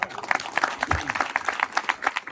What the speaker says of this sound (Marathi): त्या सरांसाठी एकदा खरंच जोरदार टाळ्या झाल्या, जोरदार